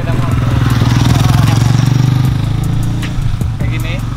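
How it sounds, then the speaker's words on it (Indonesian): A motorcycle engine drones loudly nearby with a steady pulsing rumble, then fades after a couple of seconds as it passes, with people talking over it at a BMX riding session. "Ya, ada sepeda motor."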